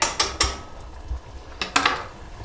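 Noodles being mixed with Szechuan pepper and Chinese five spice, a few quick clattering scrapes and clinks of utensils against a bowl or pan in two short bursts, close by, with no talking.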